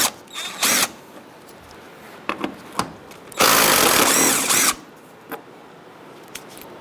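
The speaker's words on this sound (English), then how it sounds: "You're going to use a 10mm socket. Take out this bolt on this side and the one on the other side" A power tool with a 10mm socket removes a bolt during radiator replacement on a 2010-2013 Kia Soul 2.0L four-cylinder, giving several short whirring bursts and one longer run of about a second, loud and close, with quiet gaps between.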